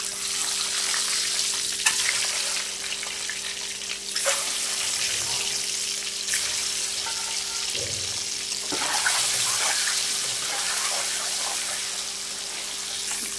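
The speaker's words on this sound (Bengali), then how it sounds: "ডিমগুলো একটু লাল লাল করে ভেজে নেবো" Eggs frying in a kadai with salt and turmeric, a steady close hiss of sizzling oil with occasional sharp crackles and spatters.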